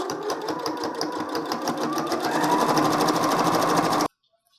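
A sewing machine stitches bias tape onto a fabric face mask, a close rapid mechanical chatter running steadily for about four seconds before stopping abruptly.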